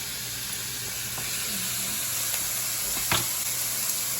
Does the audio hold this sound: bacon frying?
yes